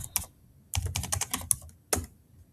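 Keystrokes on a computer keyboard while entering a leave description in payroll software: a few isolated clicks, then a quick dense burst of taps and two more separate strikes, close and fairly quiet with no voices.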